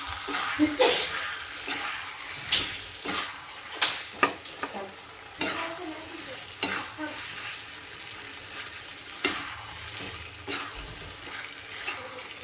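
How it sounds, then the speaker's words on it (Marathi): Eggplants are stirred into a hot pan of onion, tomato and green chili, giving repeated scraping strokes over a soft, steady sizzle. A person talks over the cooking at times. "आता आपण घालूया याच्यामध्ये वांगी आणि हे मिक्स करून घेऊया"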